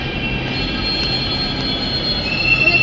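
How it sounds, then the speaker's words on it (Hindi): Delhi metro train pulling into Peeragarhi station, a steady close rumble of wheels on rail with a high, sustained squeal over it that swells slightly toward the end. "तो देखो दूसरी मेट्रो आ गई है,"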